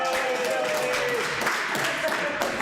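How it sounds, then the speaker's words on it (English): An audience at a Denver Node.js meetup talk applauds, a dense, steady wash of clapping that fills the whole moment with a voice faintly mixed in. "Round of applause for Filthy Phil."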